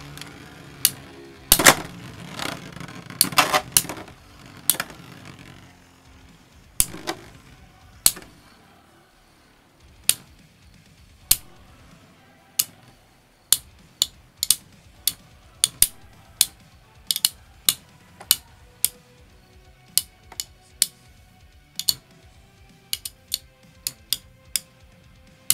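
Beyblade Metal Fight tops launched into a stadium, a burst of clattering at the start, then a long run of sharp, separate clacks and ticks as spinning tops collide against a quiet whirring background.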